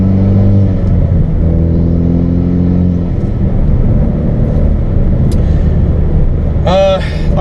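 A Hyundai Veloster's 1.6-litre four-cylinder engine drones steadily from inside the cabin on a winding Arkansas road, its tone rising in pitch early on, while someone talks over it.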